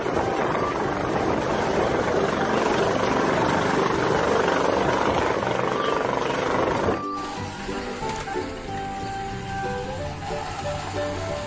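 A helicopter drones loudly with steady rotor noise for several seconds, then the sound shifts abruptly to a quieter, more tonal mechanical hum.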